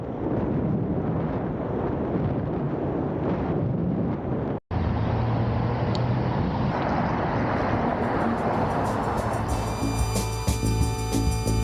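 Passing road traffic on an open road, heard from a moving bicycle through heavy, steady wind rush buffeting the microphone, with the car sounds partly buried under the roar and no one speaking.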